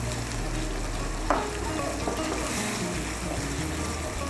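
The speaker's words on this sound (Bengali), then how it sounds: "মশলার সঙ্গে আলু আর ফুলকপিটাকে ভালো করে মিশিয়ে নেব।" Potatoes and cauliflower being stirred with spices and a little water in a pan for a cauliflower curry, a soft continuous sizzle with scraping spoon strokes and one sharper clink.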